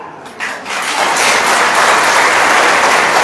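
A stage audience at a Babasaheb birthday event breaks into loud, sustained applause that swells within the first second and holds steady and dense to the end.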